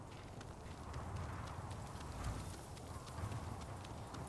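Horse hooves clip-clop steadily in Ghost of Tsushima as a mount trots along, a continuous rhythmic patter over low ambient rumble, with no talk.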